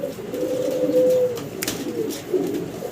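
A pair of fancy butterfly pigeons coos close by in a steady, throaty run that rises and falls, with one brief sharper chirp partway through and no talking.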